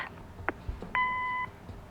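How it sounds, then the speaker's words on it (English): Voicemail beep in the video game Kathy Rain: a few faint clicks and a short blip, then one clear steady electronic tone lasting about half a second, alone in a quiet background. "Leave a message after the beep"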